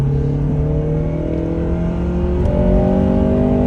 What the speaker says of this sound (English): Look at that VTEC.